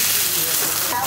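Eggs with tomato, green chili, black pepper and salt fry in a pan with a steady, close, dense sizzling hiss that runs without a break.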